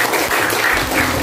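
Classroom applause for quiz winners at an Indonesian school, a dense, steady patter of many hands clapping together for about a second, loud and close with no talk over it.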